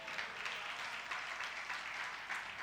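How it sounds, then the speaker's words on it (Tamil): A church congregation claps during a worship service, a dense, steady wash of many hands applauding together at moderate volume, with no voices standing out. "கைத்தட்டுங்க பார்க்கலாம்."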